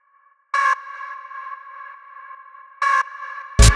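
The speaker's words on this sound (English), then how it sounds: "Then we just got this little vocal stab" A short vocal stab sample from a Gen Z hard house track, cut from a longer vocal line, drenched in reverb with auto pan. It hits twice as a bright chopped burst, each tail ringing out, before a loud beat lands at the end.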